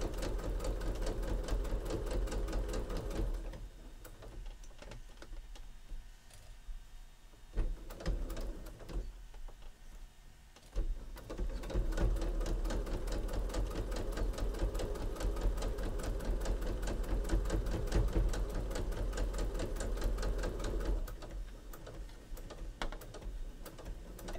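A sewing machine stitches fabric pieces for a mat in steady rapid runs of mechanical chatter, close up, with a few brief pauses between bursts.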